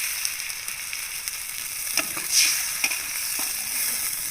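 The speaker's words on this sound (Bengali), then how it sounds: "ভাজা হয়ে গেছে, এখন একটু পানি দিয়ে দিচ্ছি" Water splashes into an onion, garlic and green chili paste frying over a clay stove, bringing a steady bright sizzle with a short hissing surge midway, punctuated by faint stirring scrapes, without any speech.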